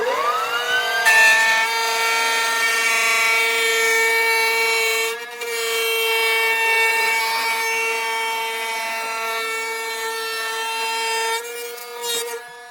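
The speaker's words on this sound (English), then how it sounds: "we're using a 1/8 rabbit bit. It's got a bearing, and then it's gonna cut away an 1/8 inch material from here." A router fitted with a 1/8-inch bearing-guided rabbeting bit trims material from a 10-inch molded drum ring, giving a steady, loud high-pitched whine that runs continuously with one brief dip midway.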